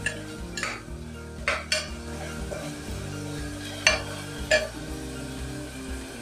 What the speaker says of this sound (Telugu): ఇప్పుడు దీంట్లో అల్లం వెల్లుల్లి పేస్ట్ వేసుకోవాలి. ఇది పచ్చివాసన పోయేంత వరకు ఆయిల్లో వేయించుకోవాలి.